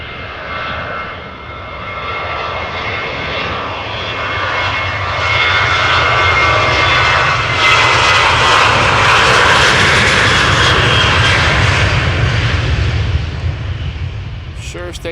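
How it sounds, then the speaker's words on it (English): A KLM Boeing 737-800, 23 years old, roars through its takeoff roll at Amsterdam Schiphol, a loud broadband jet rumble that builds steadily and peaks as the airliner climbs away, with faint talk underneath. "The next one is KLM Flight 1009 going to London Heathrow, Boeing 737-800"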